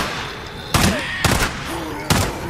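Pistol gunfire in Days Gone, three sharp loud shots spaced apart, close and punchy with brief reverberant tails, set against a low ambient game backdrop.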